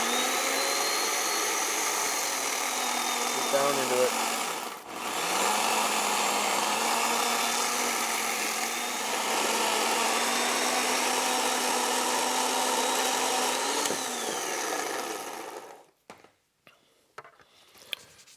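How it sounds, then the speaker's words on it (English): A chainsaw bites into a wooden log for woodturning, its steady motor drone running loud and continuous for about fifteen seconds with a brief dip midway, then cutting out to near silence; a voice speaks briefly over it. "I want to start with the carcass of the chainsaw against the wood"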